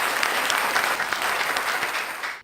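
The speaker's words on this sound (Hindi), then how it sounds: "जोरदार तालियों के साथ" An audience at a kavi sammelan, a Hindi poetry gathering, claps to welcome poet Professor Ompal Singh Nidar. The brief, full burst of applause stays strong for a couple of seconds, then tapers off.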